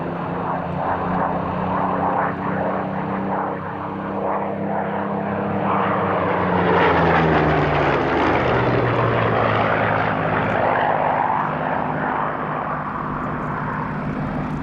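Supermarine Spitfire piston engines drone steadily and loudly as the aircraft fly past at an airshow at Duxford, the propeller roar swelling and shifting pitch as they pass, with no voices over it.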